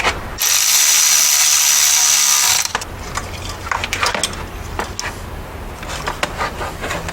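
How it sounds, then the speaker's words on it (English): A ratchet tightening a fitting on an SR20DET engine: a loud, continuous whirring click for about two seconds, followed by scattered lighter clicks and metallic handling taps nearby, with no voices. "now I just gotta tighten this up"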